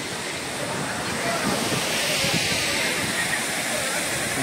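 A waterfall at a scenic spot roars as a steady, close, full-bodied rush of falling water, with no clear voices over it.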